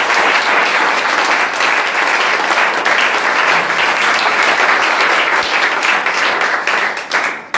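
A church congregation at a Cameroon gathering breaks into dense, loud applause for the Lord, steady clapping sustained throughout before tapering slightly at the very end.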